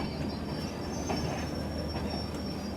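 Train running on rails on a long ride toward Delhi, a steady rumbling wash of wheels with faint squeals and a thin high whine, moderately quiet and continuous.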